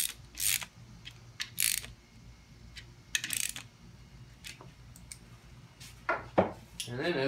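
Ratchet tightening bolts on a Honda K24 engine gives short bursts of metallic clicking, close and fairly quiet, separated by pauses and light tool clinks.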